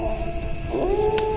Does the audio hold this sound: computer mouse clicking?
no